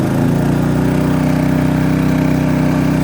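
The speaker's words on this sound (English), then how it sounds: "You'll see when I switch it to full bore," A Champion inverter generator runs loud and close, a steady throbbing engine drone with a rhythmic mechanical pulse that holds at high revs throughout.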